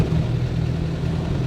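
A 1990s Land Rover Defender engine drones steadily at low pitch while driving, a constant in-cabin rumble with no voices over it.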